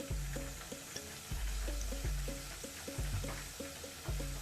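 Garlic sautés in hot oil in a pan, a soft, constant sizzle heard close by under a louder rhythmic tonal pattern that repeats roughly every second, with no talking.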